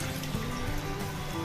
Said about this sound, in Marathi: आता ह्याच्यात माझ्या जरा पाणी घालूया,